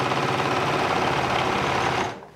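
A Bernette B44 serger stitches fabric as its foot pedal is pressed, giving a steady, loud, fast mechanical whir that runs unbroken for about two seconds and then stops abruptly.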